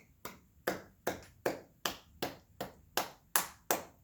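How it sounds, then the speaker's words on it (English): Steady hand claps keep the beat of a song in 3/4 time, ten crisp, evenly spaced claps heard close and alone, with no talking or music. "So that would be clapping or clicking the beat to yourself."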